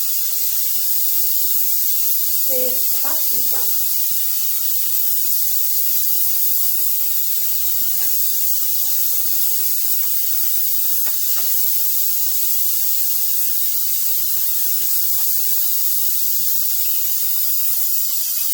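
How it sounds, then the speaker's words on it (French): Cardoon pieces fry in hot oil for a tagine dish, a steady bright sizzle and hiss running unbroken throughout, with a brief spoken remark early on. "Mes amis, on passe à la friture."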